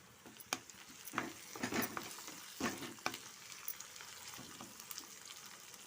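Curry leaves and tomato sautéing in a pan for prawn gravy, a quiet crackling sizzle broken by several sharper stirring bursts and spatters, with no voices.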